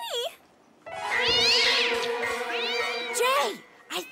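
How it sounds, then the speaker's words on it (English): A cat gives a long, drawn-out meow, loud and close, with a shorter mew just before and after it, against a quiet room. "Look at the cute kitty!"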